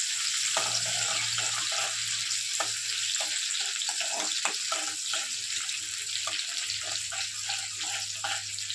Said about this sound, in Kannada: ಇದನ್ನ ಸ್ವಲ್ಪ ಫ್ರೈ ಮಾಡ್ಕೊಳ್ಳಿ